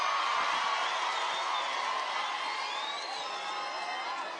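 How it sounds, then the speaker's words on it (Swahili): A large crowd cheers, whoops and shouts at an outdoor UDA political rally in Embu, Kenya, a loud sustained roar of voices with rising whistles and calls. "Pigia makofi"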